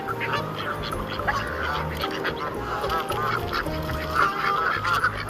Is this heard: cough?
no